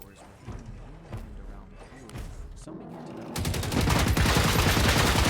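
Rapid machine gun fire in a video game bursts in loud and continuous after a stretch of quieter thuds and talking, rattling steadily to the end.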